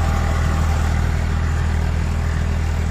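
A tractor engine runs steadily under load while driving a Shaktiman rotavator tilling a field about 5-6 inches deep, a loud, continuous rumble with clattering mechanical texture and no talk.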